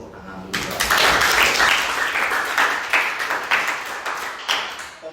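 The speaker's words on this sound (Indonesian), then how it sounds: "Tepuk tangan dulu." Classroom applause from a group of students, a burst of clapping that starts suddenly and continues for several seconds, fairly close, with a voice speaking briefly near the end.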